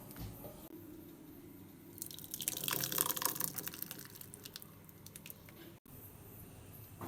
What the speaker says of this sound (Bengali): আমার ফিরনিটা হয়ে গেছে এখন আমি পাত্রে ঢেলে নেব